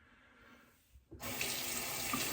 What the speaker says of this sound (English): Sorry about the running water there.